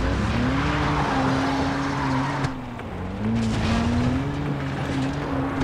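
A car in Far Cry 3 drives with a steady engine hum while its tires squeal and skid, the whine dipping briefly midway before resuming, loud and close with no voices.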